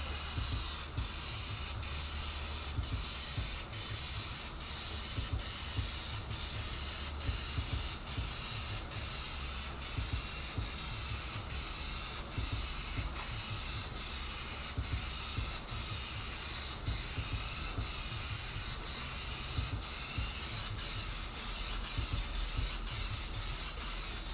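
An airbrush sprays pearly paint onto a panel in a steady, close hiss that runs unbroken throughout, with faint regular ticks beneath it and no talking.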